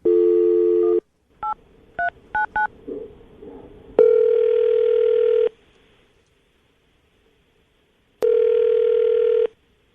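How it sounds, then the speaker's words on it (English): Touch-tone telephone dialing: a steady dial tone, then a short run of separate DTMF key beeps, followed by two long ringback tones with a pause between, no talking. "I'm going to dial the phone number, see if we can get her on the phone"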